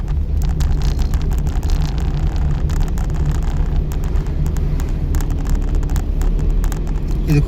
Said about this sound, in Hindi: ये देखो पर इसे ओवरटेक करता हुआ आ रहा है ना